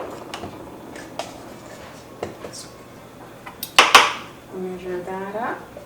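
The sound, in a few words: handling measuring cups and spoons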